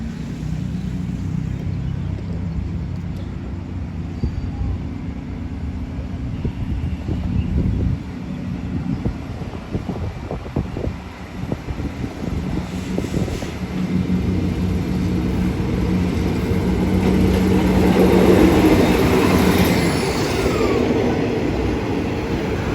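Special express train 43, an air-conditioned Thai express, departing Bang Sue station with a steady low rumble of rolling wheels and engine that swells louder toward the end, heard continuously without talk.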